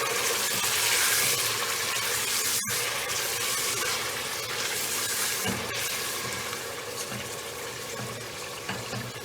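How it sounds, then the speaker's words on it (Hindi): Tenderised beef pieces fry in a pot, giving a steady loud sizzle with occasional stirring clatter that fades gradually toward the end, with no talking. "एक से 2 मिनट इसको भूनना है।"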